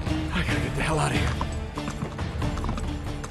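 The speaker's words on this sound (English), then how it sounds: "Horse riding." A horse gallops in Uncharted 3, rapid clip-clop hoofbeats with mechanical rattles and a possible whinny, mixed with game sounds and a voice talking over it.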